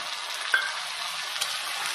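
Shrimp sizzle steadily in a pan as tomato and peas are added, a continuous bright frying hiss with a single sharp scrape or clink about halfway through and no talking.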